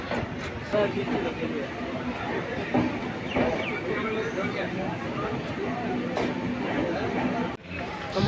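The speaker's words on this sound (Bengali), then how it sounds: "আমাদের ট্রেন শান্তিনিকেতন থেকে রওনা দিয়ে দিয়েছে প্রান্তিক স্টেশনে যাওয়ার উদ্দেশ্যে।" The 13053 Kulik Express rumbles along from Santiniketan toward Prantik station with rattling wheels and a steady hiss, while voices murmur faintly in the carriage around it.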